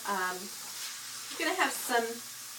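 Ground beef frying in a pan for spaghetti, giving off a steady, soft hiss of sizzling grease that runs beneath a person talking throughout.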